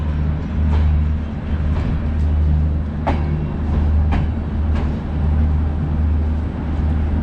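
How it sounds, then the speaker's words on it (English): An old Soviet-type passenger train backs slowly into Romania's biggest railway station, making a loud steady rumble with rhythmic wheel clatter and squeaks close by, with no speech. "So this train's just backing in,"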